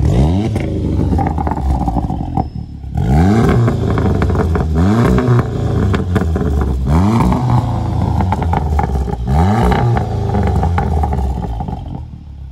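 VW Golf 7 GTI Clubsport engine idling with a low burble, then revved in a series of sharp, evenly spaced blips that climb and drop back, loud and close, with no talking.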